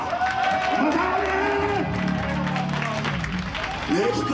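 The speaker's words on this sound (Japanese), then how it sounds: "大きい拍手だ。" A rock concert crowd applauds and cheers in a live venue, a wash of clapping and shouts running beneath someone talking over the noise.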